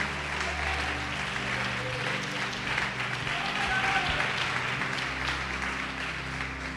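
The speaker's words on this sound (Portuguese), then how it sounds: "Você pode aplaudir o Senhor por isso?" A church congregation applauds during a Portuguese-language sermon on faith and prayer, a steady, even bed of clapping over a low droning hum, with voices mingled in.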